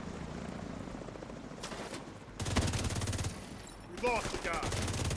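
A helicopter and gunfire in a video game: a steady rotor-like drone runs beneath loud bursts of rapid automatic fire, with brief sounds of a voice near the end.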